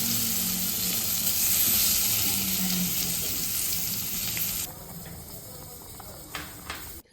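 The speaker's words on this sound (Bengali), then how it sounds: "এখন দই বেগুনের বেগুন ভাজা চলছে।" Eggplant slices for doi begun frying in oil, a loud close sizzle filling the first few seconds, then dropping to a quieter crackle with a few light clinks.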